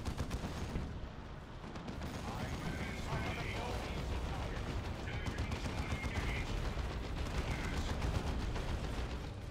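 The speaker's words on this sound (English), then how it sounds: "Does decent anti-infantry damage with that heavy bolter on top of it" A Razorback's turret-mounted heavy bolter in Dawn of War 2: Retribution keeps firing in dense, continuous bursts amid battlefield noise, with a commentator speaking over it.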